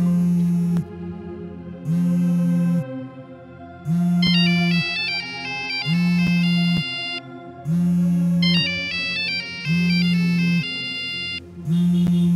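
A mobile phone ringtone plays loud and close, a repeating melodic pattern of sustained tones broken by short pauses, with bright chiming note runs layered over some repeats.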